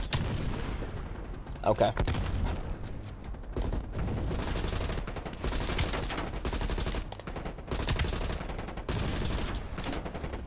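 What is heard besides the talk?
gunfire in video game Call of Duty: Black Ops Cold War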